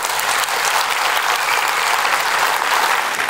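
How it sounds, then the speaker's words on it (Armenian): Steady, dense applause from a comedy show audience, loud and continuous throughout with no talk over it. "Մի հատ ծափարենք Զիրոյանի, որ շուտ լավանա։"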